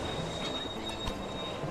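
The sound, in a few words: train arriving and stopping in video game Railway Empire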